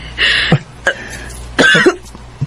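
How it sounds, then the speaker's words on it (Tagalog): A person coughs several times in short, harsh bursts with brief pauses between, close and fairly loud. "Taod-taod naman na imong ubo"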